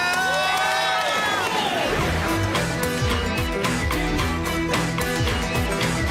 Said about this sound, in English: Give him a big round of applause and cheer him on.